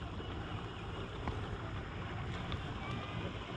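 Another boat's outboard motor drones continuously across open water near a jon boat, a steady, broad rumble mixed with wind and water noise, with no clear breaks.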